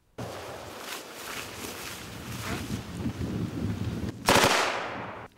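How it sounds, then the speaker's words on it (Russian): Gunfire and shell blasts from a staged battle reenactment of Great Patriotic War fighting, heard as a continuous rough, windy roar with scattered bursts and one loud explosive burst near the end, no talking. "Звуки выстрелов и разрывов снарядов сотрясали воздух."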